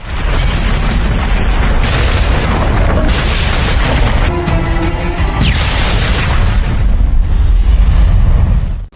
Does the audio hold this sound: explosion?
yes